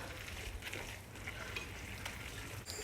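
Chopped bell pepper and mixed vegetables are stirred in a frying pan for a spaghetti bolognese, a steady close sizzle with scraping and shuffling under it, no talking.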